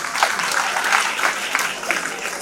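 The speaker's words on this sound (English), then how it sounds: "a big round of applause for all the winners." A crowd at a valedictory ceremony claps steadily and continuously for award winners, a dense, even patter of applause throughout.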